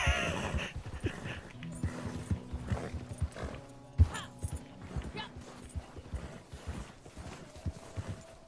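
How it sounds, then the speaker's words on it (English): Hooves clip-clop in a steady, fairly close rhythm from a horse pulling a wagon on a night ride near Mount Hagen, with faint voices and other noises mixed in. "I'm on the wagon horse."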